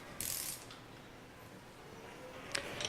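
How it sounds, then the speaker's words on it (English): A ratchet clicks as it tightens the manifold bolts on a packing stack. Short, quiet bursts of clicking come near the start and again near the end, with faint mechanical noise in between. "Tighten each bolt at intervals starting with the inside bolts."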